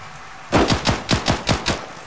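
Six rapid gunshots ring out close and loud in a foggy horror video game as the player comes under fire, evenly spaced bursts standing alone after a short quiet lead-in.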